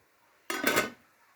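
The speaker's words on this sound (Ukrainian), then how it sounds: "Вода закипає, кидаємо гриби" A brief splash and clatter as mushrooms drop into a pot of boiling water, a short metallic burst in an otherwise quiet moment.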